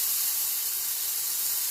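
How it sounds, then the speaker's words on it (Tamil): Oil poured over plantain pieces on a hot dosa pan gives a steady, bright, high-pitched sizzle and hiss, continuous and close with no talking. "அது மேலே எண்ணெய் ஊற்றணும்."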